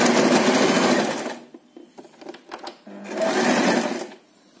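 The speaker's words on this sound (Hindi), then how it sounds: "अब दोबारा से हम वैसे ही स्ट्रेट स्टिचिंग, लाइंस जो हैं वो हमारी बिल्कुल स्ट्रेट होनी चाहिए।" An electric sewing machine stitches straight lines through a fabric mat made from old chinos and leftover clothes, running in two loud close whirring bursts separated by a short pause with light handling clicks.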